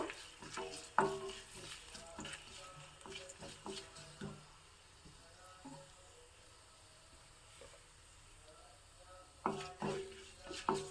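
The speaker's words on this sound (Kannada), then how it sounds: "ಚೆನ್ನಾಗಿ ಒಗ್ಗರಣೆ ಬೇಯಿಸ್ಬೇಕು" Mustard seeds, dried red chili, turmeric and asafoetida tempering in hot oil for a Mysore Brahmin-style brinjal dish, a soft steady sizzle broken by light pops and clinks of a stirring utensil against the pan.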